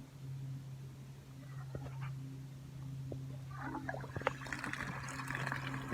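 Mains water at about 7 bar starts flowing through a newly extended garage supply once the stopcock is opened. A faint hissing rush builds over a steady low hum and grows fuller in the last few seconds.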